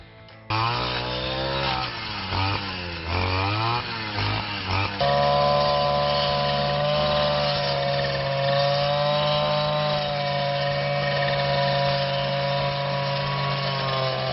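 A small two-stroke engine on a HIKARI GS3500 gasoline brush cutter revs up and down several times, then settles into a steady high-pitched running drone, loud and close.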